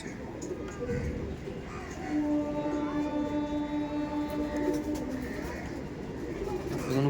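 Punjabi pigeons coo softly in repeated low, throaty calls, fairly close, with a steady background hum and a few faint murmurs of people nearby.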